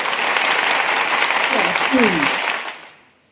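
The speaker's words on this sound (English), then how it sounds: "I gotta give applause to Father." Studio audience applause on a live morning show, a steady dense burst of clapping with a couple of brief vocal whoops partway through, fading out over the last second.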